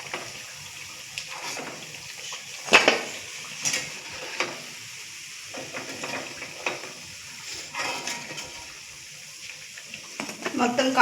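Masala vada frying in hot oil, a steady crackling sizzle with scattered sharp pops and clinks of a utensil against the pan, close and moderately loud throughout with no talking.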